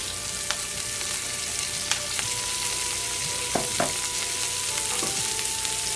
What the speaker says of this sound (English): my skillet is hot. And what we'll do is we'll add our onion. We'll add our peppers.